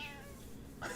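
A hungry cat gives a short, close meow that trails off, then starts a second, brighter one, with a voice faintly present.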